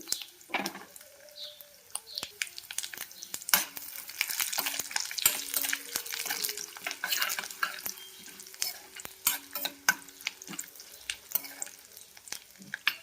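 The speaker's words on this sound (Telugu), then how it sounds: "తాలింపు అయితే మంచిగా వేగిందండి" Garlic, curry leaves, dried red chillies and tempering seeds sizzle and crackle in hot oil, with scattered sharp pops and the scrape of stirring throughout.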